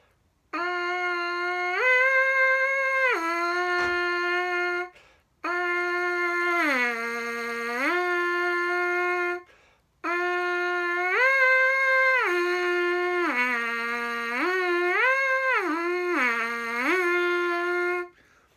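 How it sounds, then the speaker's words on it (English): A brass instrument plays sustained tones in three long phrases, sliding smoothly up and down between notes in swooping glides. "what I call it is sort of a swoop glissando"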